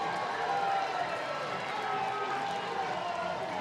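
A college baseball crowd at an NCAA regional game between Alabama State and Alabama cheers steadily after a two-run homer, a dense, sustained roar of voices that holds at even volume throughout.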